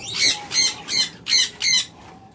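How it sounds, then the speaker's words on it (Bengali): Red-eye pet birds offered for sale squawk five times in quick, evenly spaced harsh calls, close and clear, then fall silent. "প্রত্যেকটা কিন্তু রেড আই পাখি।"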